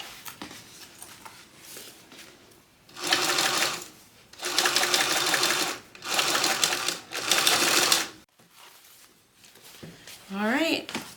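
A sewing machine top-stitches a fabric bucket bag in three or four loud, steady runs of rapid stitching separated by short pauses, close to the microphone, with a voice speaking briefly near the end.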